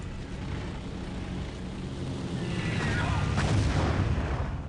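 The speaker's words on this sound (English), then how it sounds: "that's a friendly plane bombing a friendly control point in an empty tank" A plane bombing a control point in Battlefield 1942, a continuous rumbling roar swelling into heavy muffled explosions, loud and sustained over a droning engine.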